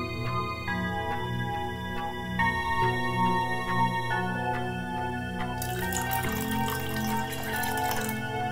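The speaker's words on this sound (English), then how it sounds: "I am adding some water." Water is added to copper metal in a chemistry experiment making copper sulfate. A steady watery trickle with drips runs under a constant tonal hum, then turns into a brighter, hissing wash for the last few seconds.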